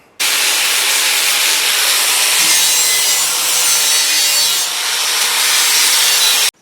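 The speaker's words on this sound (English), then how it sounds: "Let's get the flap wheel, round everything off" Flap wheel grinding the edges of a steel underbody cover plate for a 2022 Toyota Tundra, a loud, continuous, harsh abrasive hiss that starts abruptly, holds steady for about six seconds, then stops.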